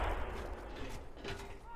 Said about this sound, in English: Oh jeez, those are loud, loud explosions.